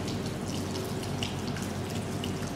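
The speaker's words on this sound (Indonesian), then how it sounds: "nyalakan keran air dengan menggunakan siku secara perlahan" Tap water runs steadily into a sink as hands are wetted up to the elbows during handwashing before an injection procedure, a continuous close hiss with faint drips and no talk.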